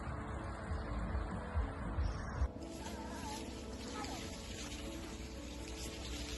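Steady water trickling and splashing at a koi pond in Kubota Garden, a continuous close wash of sound with a brief louder thump near the start and no talking.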